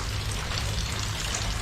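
Rain falls outdoors in a steady, dense patter during a water pump repair, forming a continuous hiss with no voices.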